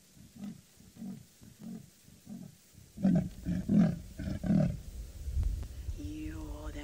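A male leopard's rasping call in South Africa, a rhythmic series of deep sawing grunts, first quieter then louder and close, followed by rumbling engine noise.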